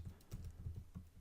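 Keys clack on a computer keyboard as an SSH login command is typed into an Ubuntu server terminal: quick, soft, irregular taps at close range, fairly quiet, with no talking.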